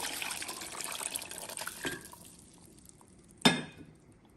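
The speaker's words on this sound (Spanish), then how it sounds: "le voy a agregar 2 tazas de caldo de pollo" Chicken broth pours into a blender for a creamy Lent recipe, a steady watery splashing that fills the first two seconds, then fades, followed by a single sharp clink near the end.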